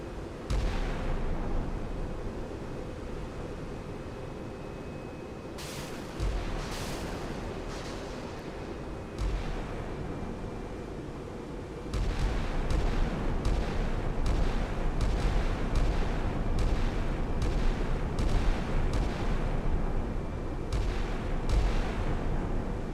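Bombs and cruise missiles explode in a video game, a series of heavy booms and sharp blasts, sparse at first then coming in rapid succession over loud continuous rumbling.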